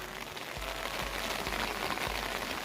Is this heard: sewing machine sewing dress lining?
no